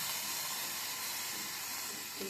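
Coriander leaves fry and sizzle in a pan while making paneer thechi, a steady, bright hissing sizzle that stays even and close for the whole short stretch without any talk.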